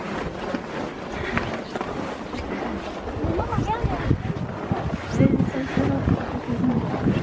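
Wind gusting across an open snowy mountainside near an ice cave, a steady broad roar buffeting the microphone throughout, with louder surges in the second half.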